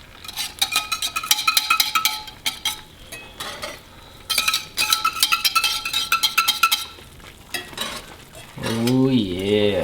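Squirrel gravy cooking with butter in a frying pan during a Texas winter storm, with bursts of sizzling and repeated clinks of a utensil scraping the pan, and a voice coming in at the end.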